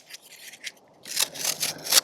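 A fine-edge, non-serrated knife slices through cardboard, giving short, close, scratchy rasps: a few light strokes, then a denser run of four or five firmer scraping cuts.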